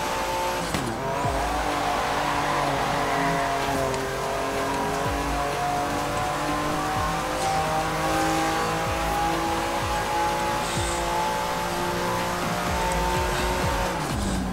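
A car drifts hard in Forza Horizon 3, the engine revving and shifting through steady gear changes while the tires squeal continuously, loud and close, with no voices over it.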